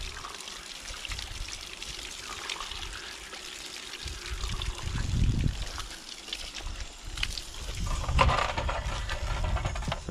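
Water drains and trickles out the bottom of a pipe during a messy plumbing job, a steady pouring splash close by with heavier gushes midway and near the end.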